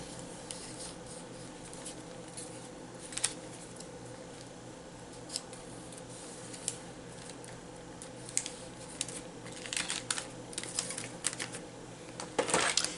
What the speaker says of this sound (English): I'm just going to cut it on the crease, on the fold.